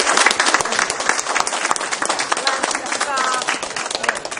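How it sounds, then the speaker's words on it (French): An indoor crowd at a Téléthon charity event in Montaigu claps loudly and steadily throughout, a dense even wash of many hands with some voices mixed in. "bravo, on peut vous applaudir."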